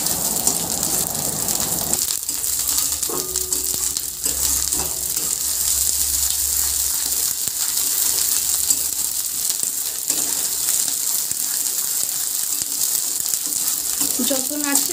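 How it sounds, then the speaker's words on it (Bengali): Kharkol leaf paste stirred often in a pan as its water cooks off, a steady sizzling hiss with repeated spatula scrapes and knocks throughout. "একটু ঘন ঘনই নাড়তে হবে, না হলে তলায় লেগে যাবে।"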